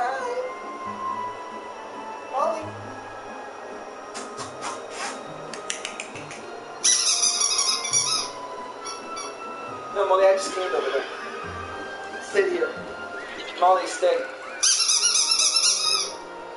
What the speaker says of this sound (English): Molly, the golden retriever from the hangar.